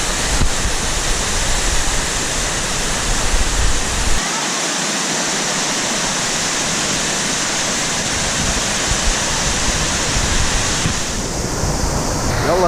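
Steady roaring rush of a waterfall pouring into a pool at an outdoor restaurant, loud and continuous throughout, with a faint murmur of people nearby.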